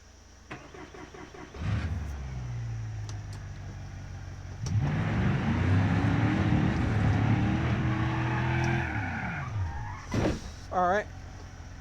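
A racing-style video game car starts up and drives off, its engine note rising and falling in long sweeps under a steering-wheel player's voice, ending with brief clunks.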